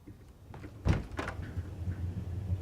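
A door in the video game Alan Wake shuts with a short, sharp thud, followed by a lighter knock and a low, steady background hum.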